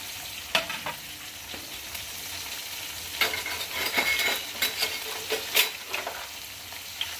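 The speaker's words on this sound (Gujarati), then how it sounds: "હવે આ ફુલેવર અને વાલોર છે એ અંદર નાખી દઈશું" Eggplant, cabbage, cauliflower and val beans are fried for Gujarati undhiyu: a soft continuous sizzle broken by sharper scraping and clinking stirs that grow busier toward the end, close by, with no speech.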